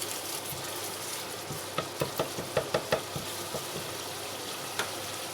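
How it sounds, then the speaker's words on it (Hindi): Chana dal roasting in a pan with masala, a steady dry sizzle and frying hiss with a quick run of light knocks and scrapes from stirring partway through, close and alone. "अब मैं डालूंगी इसमें दाल और दाल को भूनेंगे"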